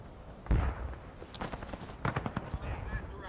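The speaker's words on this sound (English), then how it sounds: "Confederates still on their fence line, just taking shots into the woods, hoping to hit the Union where the flashes are" Musket volleys crack out in a Civil War battle video game at night, scattered shots near and far popping irregularly, mixed with a voice talking over the fighting.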